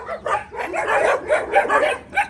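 Dogs at an animal shelter bark and yip in quick overlapping bursts, close and loud, with a few whimpers mixed in.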